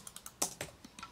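Computer keyboard keys pressed in quick succession while working in AutoCAD, with the space bar and escape key used, giving a run of sharp, close clicks in an uneven rhythm with one louder press midway.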